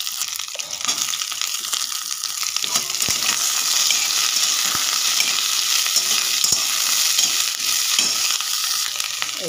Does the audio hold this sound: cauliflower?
yes